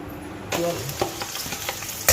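Spring onions, carrots, green peppers and green beans stir-frying for Indian-Chinese fried rice, with a sizzle that jumps up sharply partway through, followed by a steady fry and a few light clinks of the utensil.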